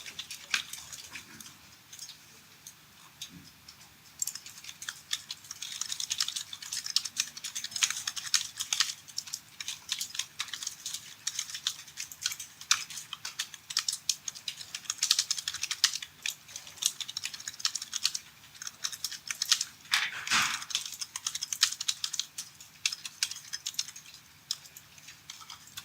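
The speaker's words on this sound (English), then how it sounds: "then you can start typing your text" Steady, rapid clatter of keys being typed on a computer keyboard during a Revit software session, fairly close and continuous with brief pauses, no speech.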